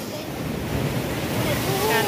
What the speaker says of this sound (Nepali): यो छालहरू हामीलाई भेट्नुको लागि आइरहेको छ।